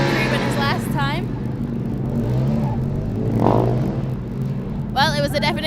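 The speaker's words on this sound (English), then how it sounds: "he's managed to restart the car and he's going to cross the line" A Formula Student autocross car at FSG 2012 restarting and driving on to the line, a moderate engine hum rising as it accelerates, under a commentator's speech and crowd sounds.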